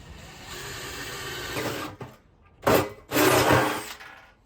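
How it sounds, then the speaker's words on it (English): A power drill with a 1 1/8 inch bit whirs steadily, falls quiet, then buzzes through two short, loud bursts as the bit bites into the side of a wood-fired hot tub's heater tank. "Take a 1 1/8 inch drill bit and drill into the side of the tank"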